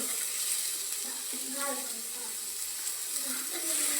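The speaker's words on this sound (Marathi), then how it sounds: "आता कांदा चांगला परतून घेते तर पहा कांदा पण चांगला लाल झाला आहे टाकते टोमॅटो" Onion and tomato frying in a pan, a faint, steady sizzle with light crackles and a few stirring or clinking sounds close by.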